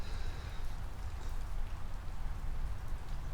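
Steady rain falls outside a garage, a continuous broadband patter of drops on surfaces that holds at an even level throughout, with no voices.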